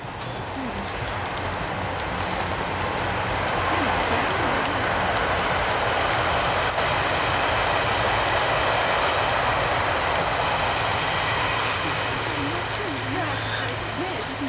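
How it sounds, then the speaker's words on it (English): Train passing on a cold, wet day near Jolly Wood Common: a steady, loud rumbling roar that swells and then fades over a dozen seconds, with faint bird calls on top. "There's the train."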